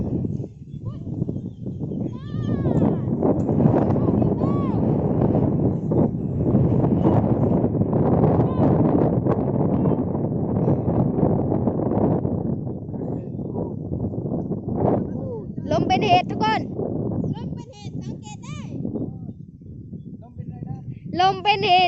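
Strong wind gusting hard outdoors, loud and continuous buffeting across the whole stretch, blowing strongly enough to lift roofing, with people talking and exclaiming over it throughout.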